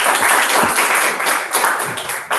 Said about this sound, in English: Please give Kagiso a round of applause.